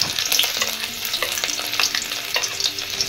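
Chopped ginger fries in hot oil on a lowered flame, a loud close sizzle with sputtering crackles and spatter bursts running continuously.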